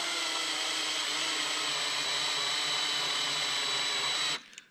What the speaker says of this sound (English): I am choosing to tap it, tap this plastic